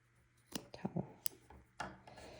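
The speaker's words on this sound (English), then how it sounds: "And I just snip them all." Scissors snip through macrame keychain cords in a few quick, quiet cuts, close by in an otherwise hushed room, with faint rustling between snips.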